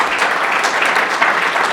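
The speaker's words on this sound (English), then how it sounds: "Yes, round of applause." An audience at a research talk on psilocybin treatment claps in a thick, continuous burst, loud and near, with no talking on top.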